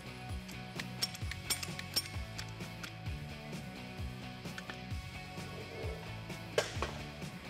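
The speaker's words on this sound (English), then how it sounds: "Grab your caliper tool. We need to push in the center puck in a little bit in order to clear our brake pads." A caliper tool pushes the piston back into a Jeep Wrangler JK front brake caliper, making faint ratcheting, clicking mechanical sounds in an uneven rhythm, quiet and close.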